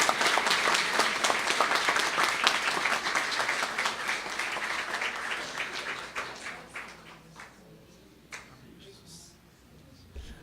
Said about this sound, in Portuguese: Dê uma salva de palmas bem forte para Jesus